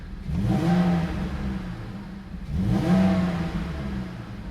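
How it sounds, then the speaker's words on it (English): Two quick revs of a BMW E46 convertible's engine rise and fall in succession over a low, smooth idle, heard up close with no voices. "It just sounds like a good engine"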